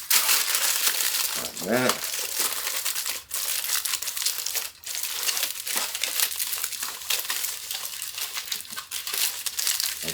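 Aluminum foil being folded and crinkled over a pan while making a cheesecake, a steady close crackling and scrunching that runs throughout, with a person talking over it.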